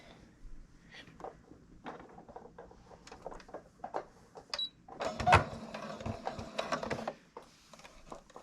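A domestic sewing machine back stitching a pillow cover, running in short, quiet mechanical stitching bursts, with a louder, denser run of stitching near the middle.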